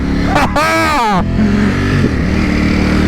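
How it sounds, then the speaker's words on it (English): A 2021 Ducati Panigale V4S engine runs loud and close on its first ride, with a brief sharp rev climbing in pitch before settling into a steady rumble, an excited voice talking over it. "First ride of the 2021 Ducati Panigale V4S, and oh my god, am I excited!"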